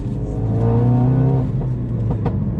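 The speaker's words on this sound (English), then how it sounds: "And those pops and bangs, that's part of the Mountune tune." A 400 BHP Mountune-tuned Ford Focus RS engine revs loudly and close up, rising and falling, with a few sharp exhaust pops crackling as the revs drop, and no speech.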